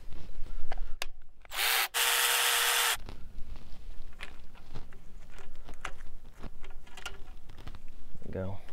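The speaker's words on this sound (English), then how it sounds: "Let's go ahead and remove the bolts from this guide here." Power tool pulling bolts from the timing chain guide on a Ford Duratec 2.0L engine, with a loud high whir for about a second, then scattered metallic clinks and handling taps while a person talks.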